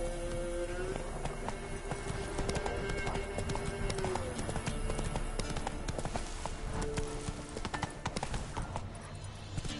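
Roach, the horse in The Witcher 3, gallops in a steady, continuous clip-clop of hooves, with a brief whinny near the start and faint rain-like patter beneath.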